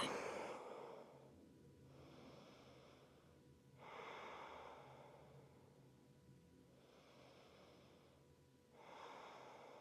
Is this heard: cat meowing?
no